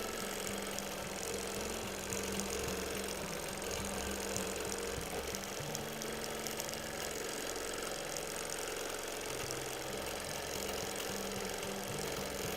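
A sewing machine stitches steadily through a baby quilt during free motion quilting, a continuous mechanical whir with a low pulsing hum running at an unhurried speed, close and constant throughout.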